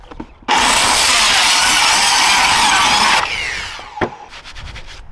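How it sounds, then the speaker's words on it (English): A power saw cuts into the wall of a trailer, a loud steady whine running about three seconds and then winding down, followed by a sharp knock and some handling noise. "we're gonna make a cut over here on this side"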